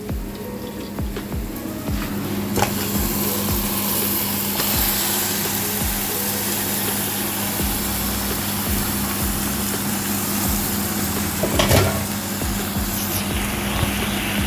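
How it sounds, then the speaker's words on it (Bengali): Duck meat tipped into a pan of fried onions sizzles steadily and loudly, a continuous hissing spray with occasional stirring knocks and a low background hum, without any talking. "এদিকে পেঁয়াজগুলি ভাজা হয়ে গেছে, আমি এখন মাংসগুলি দিয়ে দিব।"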